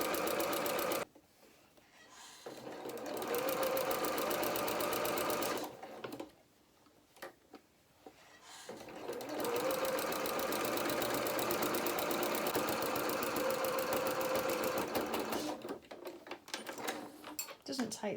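A sewing machine runs a seam along the edge of the presser foot where two fabrics meet on a small coat, in two long steady bursts separated by a quiet pause, close and rhythmic, with a brief restart near the end.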